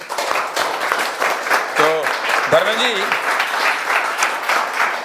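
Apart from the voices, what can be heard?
studio audience applause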